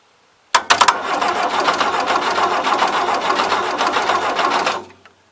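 The engine of a 1977 Gravely GMT 900 tractor cranks over with a steady, rapid mechanical chugging that starts abruptly, holds loud and close for about four seconds, then stops.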